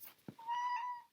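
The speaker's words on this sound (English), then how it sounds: "I heard my cat at the door." A domestic cat at a door lets out one clear, drawn-out meow after a brief thump, close by, with no talking over it.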